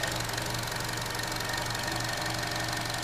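A 2012 Chevy Cruze's 1.4 liter turbo engine idles steadily under an open hood, a close, continuous hum with a fine ticking, knock-like pulse and no variation or speech.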